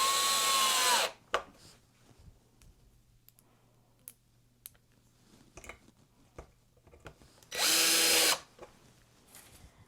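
A power drill drives a screw into a wooden canvas frame in two loud, steady whirring bursts, one at the start and one near the end, with quiet handling clicks between them.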